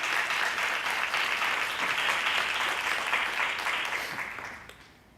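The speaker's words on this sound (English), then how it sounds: "Let's give all of them a round of applause." Audience applause at a school district board meeting, a close, dense patter of clapping that holds steady for several seconds before fading out at the end.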